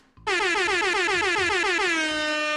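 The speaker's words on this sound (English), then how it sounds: "Here's some air horns." A loud air horn sound effect blares after a short near-silent start, one long sustained blast whose pitch slides slightly downward toward the end, with no voices.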